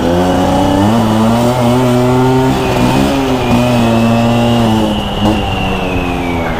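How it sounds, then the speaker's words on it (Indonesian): A Vespa scooter fitted with a KY26 racing exhaust revs loudly nearby in a residential street, its raspy, buzzing engine climbing and falling in pitch across repeated throttle blips, echoing off surrounding houses. "Kalau di perumahan kayak gini suara knalpotnya gila nih."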